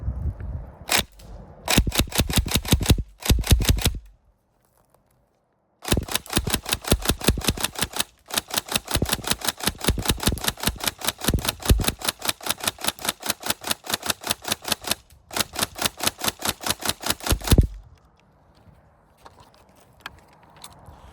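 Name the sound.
Tokyo Marui 417 DMR airsoft gun firing single shots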